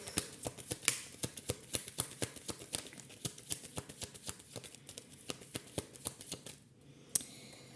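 A deck of tarot cards is shuffled in quick, even riffling flicks, a close, dry rhythmic patter of card edges that pauses briefly near the end before one last snap, no voices.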